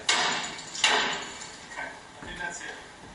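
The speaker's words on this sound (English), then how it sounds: "Three-pound hammer." A three-pound hammer strikes a metal fire escape, giving two sharp close metallic bangs that ring and decay, followed by lighter clinks.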